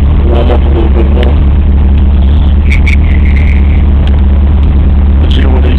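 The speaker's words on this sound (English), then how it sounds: "Let's see what the exhaust sounds like." A 1991 Honda Prelude drag car, fully stripped, runs its engine and exhaust close and very loud, with a steady deep rumble and a few light blips of revving throughout.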